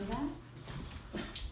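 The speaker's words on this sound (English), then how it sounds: "Why are the dogs barking?" Dogs bark and whimper in short yips near a house yard, mixed in with people talking over them.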